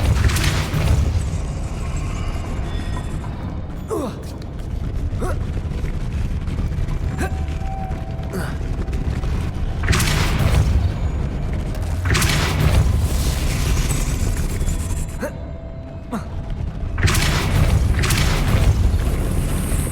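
Depulso spell effects in Hogwarts Legacy, several loud booming bursts near 1, 10, 12.5 and 17.5 seconds over a steady rumbling game score, with no talk.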